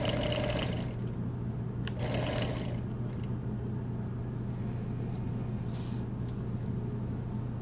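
A sewing machine stitches quilting around hand embroidery on a wool wall quilt, a steady mechanical hum with a few brief bursts of faster stitching near the start.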